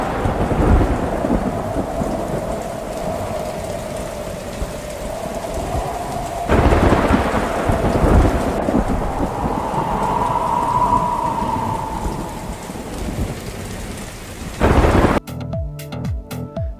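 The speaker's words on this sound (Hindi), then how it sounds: "लाहौर में फिर मूसलाधार बारिश, जल थल एक हो गया।" Heavy downpour pounds steadily during a Lahore rainstorm, with loud rolling thunder rumbling over the constant hiss of rain, close and sustained before an abrupt cut.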